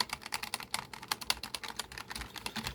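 Rapid, steady clacking of a mechanical gaming keyboard with green switches being typed on, close and fairly quiet, with no voices.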